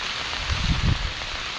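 Rain falling on a farm field at Naringre, Devgad, a steady close hiss of drops on the ground with a few soft low thuds, brief and continuous, no voices.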